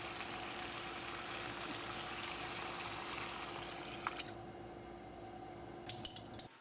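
Broth is poured into a pot of tamale soup, a soft continuous liquid trickle with a faint steady hum beneath, closing with a few small splashes and clinks.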